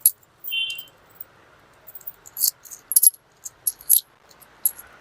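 Coins drop and clink in quick, uneven bursts while they are being counted by hand, close and crisp against an otherwise quiet room.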